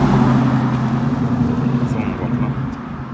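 A car engine and exhaust give a steady, low, rumbling idle close by, with a voice talking over it.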